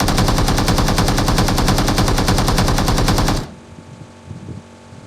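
Automatic gunfire in PUBG on the Miramar map, a loud, close, continuous burst of rapid shots lasting over three seconds, then cutting off to quiet game ambience with faint thumps.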